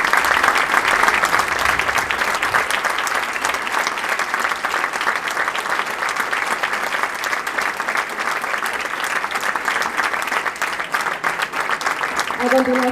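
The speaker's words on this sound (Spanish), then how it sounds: "Renovamos los aplausos en este reconocimiento" Sustained, dense applause from a large audience at an honorary doctorate ceremony in Rosario, steady and loud throughout, easing only slightly at the very end.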